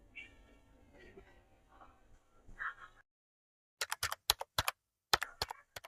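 Keystrokes typing a keyword on a computer keyboard: a quick cluster of about a dozen sharp, close clicks in short bursts after a quiet stretch with faint background sounds.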